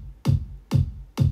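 Two layered kick drum samples, a deep bass-boosted one with its mids removed, hit three times at an even pace, each a punchy low thump with a short bright click on top, alone.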